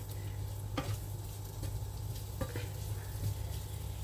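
Green beans frying and browning in a pan, a quiet steady sizzle with a couple of soft utensil scrapes, faint and close.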